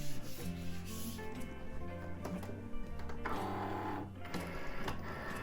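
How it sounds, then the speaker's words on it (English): A Cricut Maker cuts Oracal 651 vinyl with a busy mechanical whir, shifting motor tones and rubbing carriage movements that continue throughout at close range. "I let my Cricut maker cut the vinyl and then I weed my project."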